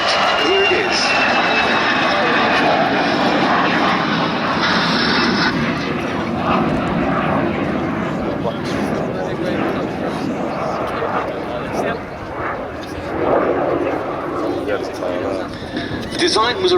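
A single-seat de Havilland Vampire jet flies past at an air show, a continuous loud roaring engine rush that swells and fades slightly, with a voice talking over it throughout.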